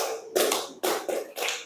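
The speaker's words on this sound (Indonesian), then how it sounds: "Tepuk 1, 2, 3." A standing group claps a patterned rhythm during an ice-breaking game, with three loud broadband bursts of collective hand claps separated by short pauses, close and without speech.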